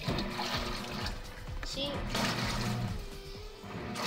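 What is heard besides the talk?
portable washing machine filling with water jets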